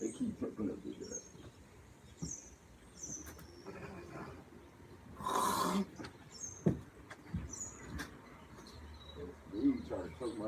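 Birds call outdoors in brief, repeated chirps spaced through the stretch, fairly faint, while people talk and move around nearby.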